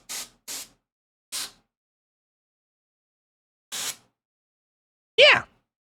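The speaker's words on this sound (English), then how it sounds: "I have compressed air that I spray into it every once in a while." Short hissing bursts of compressed air are sprayed into a computer or equipment to clear dust, five separate puffs spaced irregularly, close and clear against silence.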